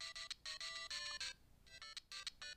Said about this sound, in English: and also choose different ringtones.